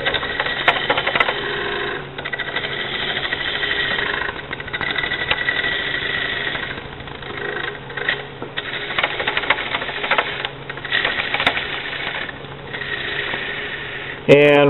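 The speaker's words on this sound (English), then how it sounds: "we're going to face this off and create that tenon. So same planing cut, I'm going to step in." A wood lathe whirs steadily as a gouge takes a planing cut, facing off a bowl blank and forming its tenon, producing a continuous scraping hum with fluctuating intensity and brief dips.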